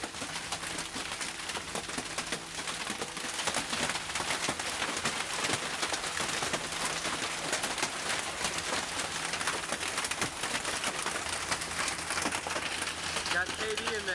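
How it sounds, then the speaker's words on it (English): Hail falls on a small town and a vehicle parked under a tree, making a faint continuous patter with scattered ticks of stones hitting surfaces, while a voice talks over it. "Suddenly a hailstorm is falling on this small town."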